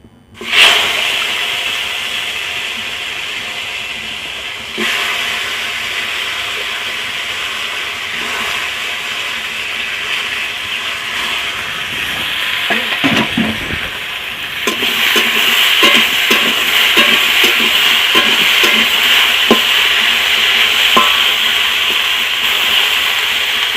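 Chopped bottle gourd hits hot oil in a wok and gives a sudden, bright sizzle that holds steady. Stirring clatters through it, and the sizzle turns louder and fuller toward the end.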